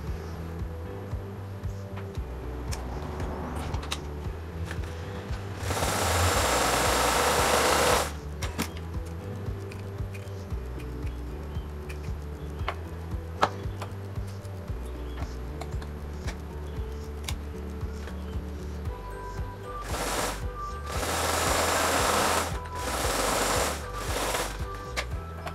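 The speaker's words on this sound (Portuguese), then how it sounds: "Vou passar aqui uma reta só para segurar." A sewing machine runs a straight seam on wide-leg trousers, with a steady fast mechanical stitching drone throughout and two louder bursts of faster running near the start and near the end.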